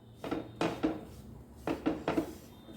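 Flour fried with garlic in a pan, stirred continuously: a spatula scrapes and knocks against the pan in several short bursts in two groups, close and fairly quiet, with no talking.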